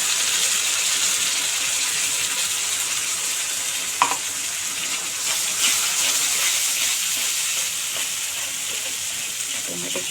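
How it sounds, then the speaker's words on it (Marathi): Tomato puree poured into hot masala oil for paneer butter masala, giving a loud, steady sizzle and hiss that runs throughout, with one brief clink partway through. "तर आता यामध्ये घालणार आपण टाकणार आहे टोमॅटोची प्युरी"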